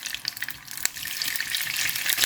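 Butter and oil heating in a pan for sarson ka saag, giving a steady, bright sizzle and crackle close up that grows slightly louder, with no talking.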